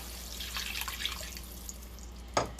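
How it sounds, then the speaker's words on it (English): One cup of water poured into a cooking pan while making honey chilli potato, a faint running splash with a short louder slosh near the end, close by over a low steady hum. "Okay, so now I'm going to put in 1 cup of water."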